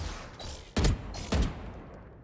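Gunfire in a first-person shooter game played with a gaming mouse: two sharp, loud shots about half a second apart, each with a short decaying tail over a quiet background.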